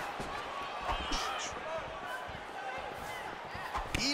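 Dull punch impacts and body thuds from the EA Sports UFC 4 mixed martial arts video game, several scattered hits under steady commentary.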